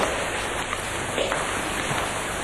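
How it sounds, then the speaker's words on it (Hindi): Heavy rain falls steadily outside, a continuous even hiss of drops on surfaces with no pauses, moderately loud throughout. "बड़ी बारिश है बाहर में।"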